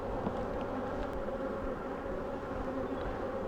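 Honeybees buzzing from an opened hive as frames of brood are inspected, a dense continuous hum close by with no talk over it.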